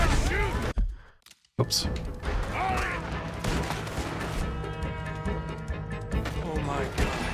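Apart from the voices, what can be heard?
gunfire hitting cover in Red Dead Redemption 2 video game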